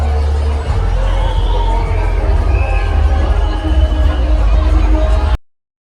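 Dense crowd noise at the Bhavnagar Rath Yatra procession, a steady roar of many voices and shouts with a low hum underneath, loud and continuous before cutting off abruptly.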